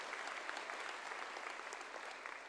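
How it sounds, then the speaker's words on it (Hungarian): Steady, dense audience applause fills a hall at a New Year's concert by a town wind band, continuous and even throughout, heard from within the crowd. "nagyon szépen köszönöm mindenkinek ezt a lelkes tapsot"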